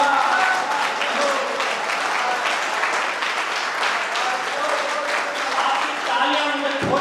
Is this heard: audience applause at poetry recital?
yes